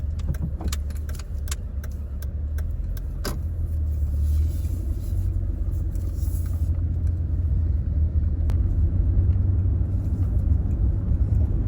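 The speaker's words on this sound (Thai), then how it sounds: "ขออภัยเสียงแอร์ด้วยนะครับ" A steady, airy whoosh of a car air conditioner blowing over a low engine rumble, in Chiang Mai, with a few faint clicks and no talking.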